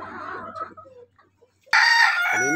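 Hens in a backyard flock give soft, scattered clucks, then a rooster lets out one loud, drawn-out crow close by.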